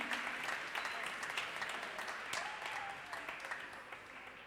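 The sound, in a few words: applause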